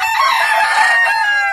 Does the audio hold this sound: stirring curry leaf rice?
no